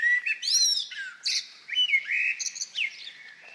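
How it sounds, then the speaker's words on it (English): A blackbird sings after sunset, a clear, close phrase of fluted whistles and chirps running over several seconds with short gaps, alone and without talk. "The blackbird often does his final burst of song after the sun's gone down."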